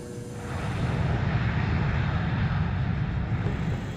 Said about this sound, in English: The captain set takeoff power, and the aircraft began accelerating.